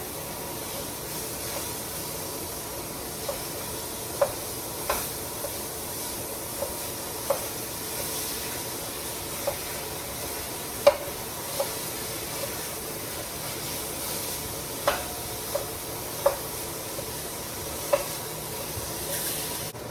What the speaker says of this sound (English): Now that we've let the ground beef brown, we're not going to worry about draining the grease.